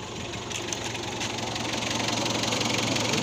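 Mitsubishi 4D56 diesel engine idling just after an oil change, a steady close rumble with a fast even diesel clatter that holds constant throughout.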